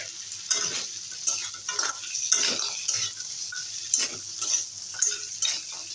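Chopped tomato and bori lentil dumplings stir-fried in a pan, a spoon scraping and clinking in quick, continuous strokes over a bright, loud sizzle, close up with no voices.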